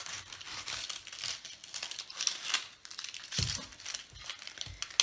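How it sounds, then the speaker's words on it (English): Onion skin being peeled by hand, dry papery crinkling and tearing in close, irregular bursts with a couple of sharper snaps. "now I'm going to peel and cut my onion"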